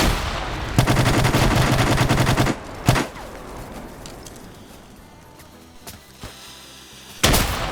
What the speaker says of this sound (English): We got a grenade battle going on.